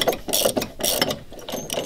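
A ratchet clicks in quick bursts while tightening the mounting bolts of a modern outboard motor on a classic Boston Whaler Montauk 17, close and crisp, with short pauses between strokes.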